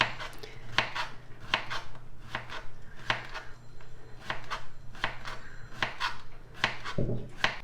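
A knife slices a cucumber on a cutting board in quick, fairly regular cuts, each a crisp tap, repeating steadily at moderate loudness with no talking.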